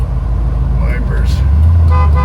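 A single sustained car-horn honk from a 1964 Ford Galaxie R-code 427 lightweight sounds near the middle, over a steady low engine-like rumble.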